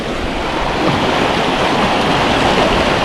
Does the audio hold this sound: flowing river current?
yes